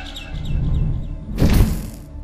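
Bird chirping inside the Garten of Banban 6 video game: a series of bright, repeated chirps in the opening second over a low rumbling game backdrop, followed by a brief louder burst of noise.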